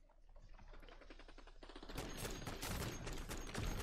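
Rapid gunfire from a .50 cal assault rifle and other weapons in MW3 Zombies, dense overlapping bursts that build from moderate to a loud continuous fusillade with no talking.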